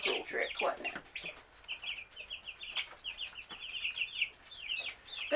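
Young Cornish Cross broiler chicks in their second week peep constantly in a high, busy chorus of overlapping cheeps, with a few lower clucks, moderately close indoors.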